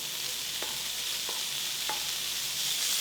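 Pancetta frying in a hot pan over medium-high heat, a loud continuous hiss of sizzling fat with a few short scrapes or taps, close-up, with no talking.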